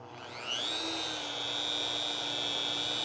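A rotary car polisher with an extension running on car paint, its motor whine rising as it spins up, then holding a steady, loud, high-pitched tone over a broad whirring hiss.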